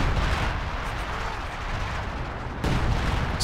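Base artillery shells rain down in a Company of Heroes 2 match, a dense, steady roar of overlapping blasts and rumbling impacts with a sharp fresh burst near the end.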